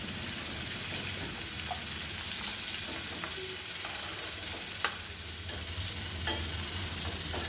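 Continuous soft sizzling and hissing of chopped onions and tomatoes frying in butter in a pan, with faint occasional clicks and stirring.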